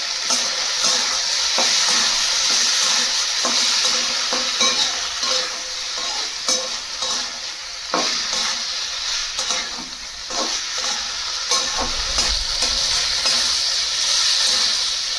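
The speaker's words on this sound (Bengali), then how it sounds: "সয়াবিন কষা হয়ে গেছে" Soybean chunks stir-fried and seasoned with salt in a hot pan, a continuous loud sizzle and hiss with frequent scraping stirs throughout, no talking.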